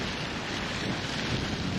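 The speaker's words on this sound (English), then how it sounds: "Beautiful weather, if you don't mind the wind." Steady broadband wind rushes across the microphone at a lakeside walking path, a constant blustery roar with no voices.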